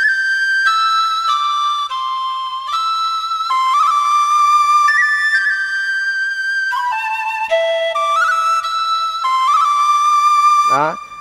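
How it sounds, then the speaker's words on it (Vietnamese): Sustained bamboo-flute tones from a SX600 electronic organ keyboard glide and slur between notes in a flowing melody, ending with a quick fluttering run, close and alone. "Sáo này nó có hai lớp nó luyến nha mọi người."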